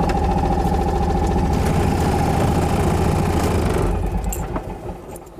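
A Trojan 200 bubblecar, also known as the Heinkel Kabine, idles with a loud, close, rapid buzzing putter that holds steady, then fades and dies away near the end as the engine is switched off.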